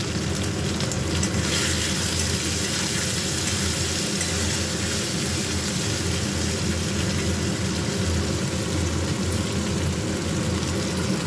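Tomatoes fry in a pan with salt on a vegetarian home-cooking day, stirred now and then: a steady, close, loud sizzle and crackle that continues without a break, with no speech.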